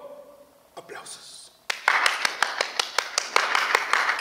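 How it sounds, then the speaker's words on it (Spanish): Clapping hands in a theatre-acting class setting, a burst of sharp, fairly close claps starting after a brief pause, continuing in an uneven rhythm with a voice speaking beforehand. "¡Aplausos!"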